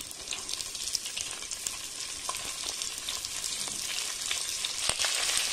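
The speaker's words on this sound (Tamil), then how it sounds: "வெங்காயம் நல்லா வதங்கட்டும். நல்லா கோல்டன் ப்ரௌன் ஆகிற மாதிரி வதங்கட்டுங்க." Onions sauté with green chillies in a pan for vegetable biryani, making a continuous bright sizzle with scattered crackles and faint scraping from stirring. There is no talk.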